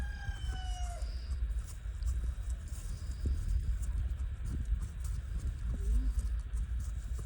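Hooves clop at a slow walking pace on firm ground, soft and close, with a rooster crowing faintly in the distance and low background noise.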